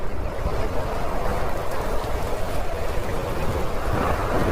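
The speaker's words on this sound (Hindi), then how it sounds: "तभी जोर जोर से हवा बहने लगती है और आसमान में बिजली के साथ बारिश शुरू हो जाती है" A wind-and-rain storm effect for a Hindi story about winter rain ruining crops: a steady, dense roar of gusting wind and falling rain, loud and unbroken throughout, with no voices.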